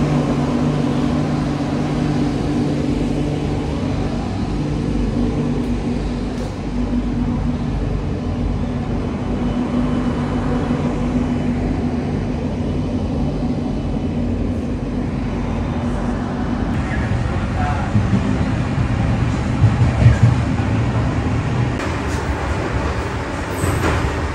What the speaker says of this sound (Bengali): আবার একটা স্টেশনে এসে ট্রেনটা দাঁড়ালো